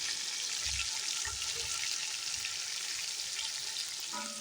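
Blended tomato and green chilli paste frying in a pan for radish bhujia, giving a steady broadband sizzle with a few low stirring thumps early on and no voices.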